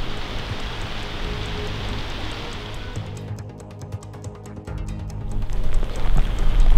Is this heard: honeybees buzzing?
no